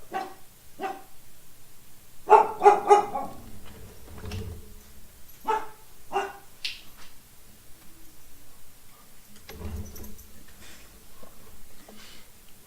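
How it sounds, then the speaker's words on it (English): A dog barks indoors in the background, several scattered barks and woofs spread over the span, some in quick clusters, mid-distance and moderately loud against a quiet room. "I'm sure you guys can hear my dog in the background."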